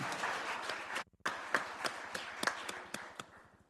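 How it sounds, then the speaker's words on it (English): Sparse, quiet applause at a governing board meeting, a handful of people clapping with distinct separate claps and a brief gap, fading toward the end. "You can clap for that."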